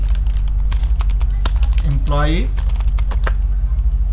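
Quick clicking keystrokes on a computer keyboard, typed while making an Excel data entry form, tap on steadily and close by while a voice speaks over them.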